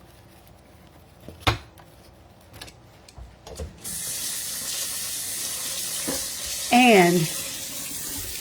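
A kitchen tap pours steadily into a sink while a cutting board is washed, a continuous close splashing rush with a few knocks beforehand and a brief word spoken over it.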